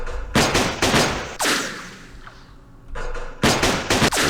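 Gunfire in the Vietnam war strategy game Campaign Series Vietnam, set in the Battle of Hue: loud, close bursts of rapid shots in clusters, separated by short gaps and fading echoes.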